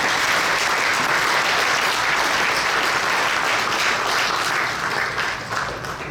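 Sustained audience applause at a Long Island Journalism Hall of Fame induction ceremony, a dense, even clapping from a large hall crowd lasting several seconds and easing slightly at the end.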